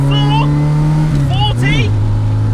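A 1991 Robin Reliant three-wheeler accelerates hard in second gear, its small engine droning loudly and close with a rising then dipping pitch as it is pushed flat out, with a voice talking over it.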